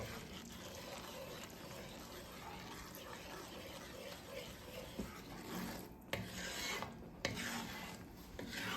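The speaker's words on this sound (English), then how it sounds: "I recommend getting a block of Parmesan and grating it yourself." A block of Parmesan cheese is rubbed against a grater in a kitchen, a soft, continuous scratchy rasping of repeated strokes, quiet and close, with a few light knocks near the end.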